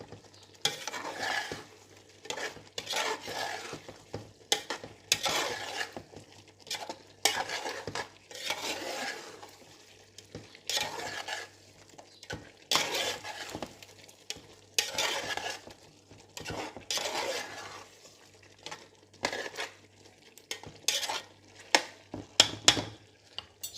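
A spoon scrapes and stirs masala mix into chicken biryani in a pot, with rhythmic scraping strokes and light sizzling repeating steadily for about twenty seconds, close and fairly quiet, with no talk.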